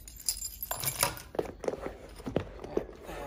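Everyday-carry keys jingle inside a leather briefcase's front pocket, a few bright metallic clinks and rattles close to the mic amid soft rustling of bag contents.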